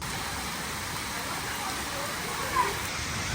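Heavy, steady rain pours down during a days-long downpour amid flooding, making a continuous, even hiss with no breaks.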